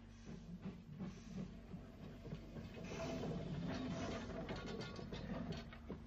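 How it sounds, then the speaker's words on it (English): A train on the Isle of Wight Railway in the 1950s or 60s makes shunting moves, propelling its coaches backwards: a faint, steady rumble with hiss and light rail clatter that grows a little louder partway through, with no voices. "Braiding performs the usual shunting moves, propelling the stock backwards, and will then, of course, run round."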